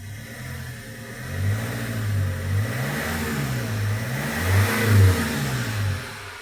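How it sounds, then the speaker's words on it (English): A Vauxhall Vivaro van engine with a turbo revs gently in a series of smooth rises and falls from a steady idle. The sound is close and moderately loud, with no talking. "Let's gently rev her up."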